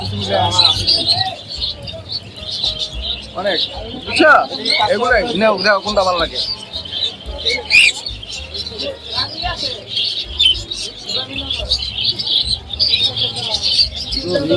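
Many birds chirp and tweet together in a busy chorus, with occasional cooing, while people talk loudly nearby at the Tongi bird market in Bangladesh.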